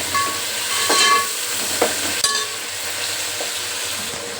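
Sliced onions hiss and sizzle steadily in hot oil with bay leaves for a chicken biryani, a continuous close frying crackle broken by a few soft spoon scrapes and small pops.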